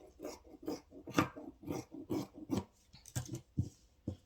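Scissors cut open a fabric circle for a spiral flounce, a rhythmic series of close, soft rasping snips about every half second.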